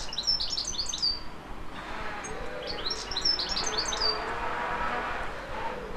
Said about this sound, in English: You'll be able to hear the birds better now.